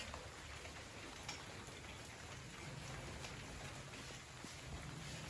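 Steady rain falls and patters on surfaces, a constant dense hiss with scattered drops, close and continuous throughout.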